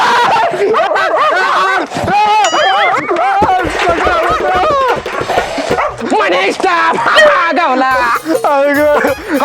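A village dog yips, barks and whimpers almost without pause, loud and close, with people talking over it throughout.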